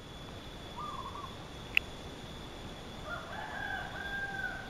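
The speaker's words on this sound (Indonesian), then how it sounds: "ayam yang sedang berkokok" A rooster crows faintly in the distance in a quiet rural setting, with a soft sharp click midway and low background hiss; no voices.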